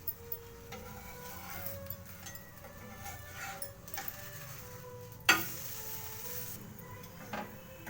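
Obbattu, a sweet flatbread, sizzles softly in a pan as it is flipped, with a quiet frying hiss under scattered clinks and scrapes and one sharp knock midway.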